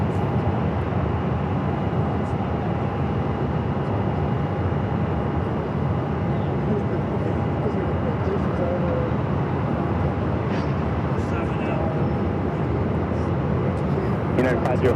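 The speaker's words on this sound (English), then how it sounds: "Got that Air Canada Rouge A319 starting its taxi" An Air Canada Rouge A319 begins taxiing at Phoenix Sky Harbor airport, its steady jet engine roar holding loud and constant throughout, with a faint tone running beneath the broad rumble.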